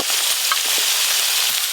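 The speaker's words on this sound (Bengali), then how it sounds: "বাকি মাছগুলো সব ভেজে নেব।" Remaining fish frying in hot oil for a Bengali kalbaush fish curry, a steady dense sizzle with faint crackles and pops throughout, close and alone without talk.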